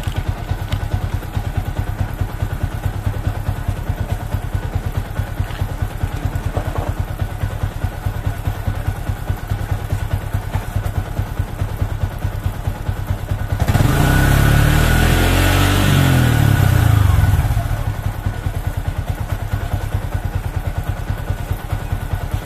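A Yamaha Vixion motorcycle with a new battery, regulator and stator idles steadily nearby, its engine then revving up for a few seconds before settling back to idle, with no voices present.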